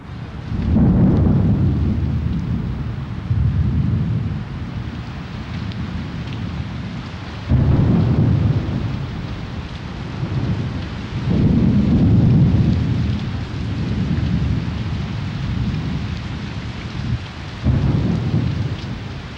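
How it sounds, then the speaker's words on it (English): An unseasonable thunderstorm over Bangkok, with steady heavy tropical rain and repeated deep rumbles of thunder rolling in at intervals. "the wind picks up, an unseasonable storm cloud gathers over the city"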